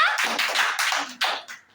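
A group at a health session claps hands loudly in several uneven bursts, close and bright, with no talking over it.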